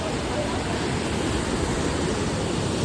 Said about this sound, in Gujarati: આ છે ભાઈ ગોરીકુંડ, જે મંદિરથી થોડો આગળ છે. જો આવ્યો તો અહીંયા ભાઈ ગરમ પાણી છે